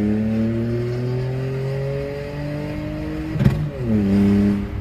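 A VW Up TSI engine with a stage 3 tune revs in rising sweeps, then a sharp exhaust pop cracks during a gear change before the revs climb again.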